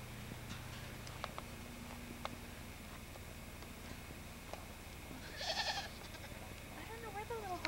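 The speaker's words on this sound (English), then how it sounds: "There's a neighbor's goat." A one-horned goat belonging to a neighbor bleats once in a short wavering burst outdoors on a farm, partly under ongoing talk and background chatter.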